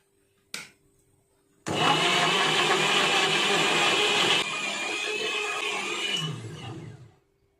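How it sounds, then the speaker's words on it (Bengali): An electric mixer grinder blending mango pulp into a fine paste in a mixing jar, a loud close whirring motor running steadily for about five seconds with a slight drop in pitch before cutting off, after a brief click. "এই পাল্পগুলোকে আমি একটুখানি মিক্সিং জারে ব্লেন্ড করে নেব একদম মিহি একটা পেস্ট মতো বানিয়ে নেব"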